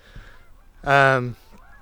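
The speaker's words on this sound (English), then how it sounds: "Ooh, geese, and it is goose season." Outdoors in goose season, one loud, close goose honk rings out for about half a second over a faint background hum.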